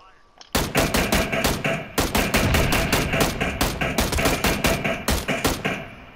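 Gunfire in PlayerUnknown's Battlegrounds: an opening single shot, then a long run of loud, closely spaced shots in irregular bursts, each with a sharp crack and short decay, steady and near throughout.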